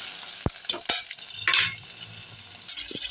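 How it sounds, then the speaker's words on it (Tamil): Whole green chilies sautéing in hot oil in a pan as the base for an egg gravy, with a soft continuous sizzle broken by a few sharp clinks and scrapes of stirring. "பச்சை மிளகா நல்லா வதங்கிருச்சு"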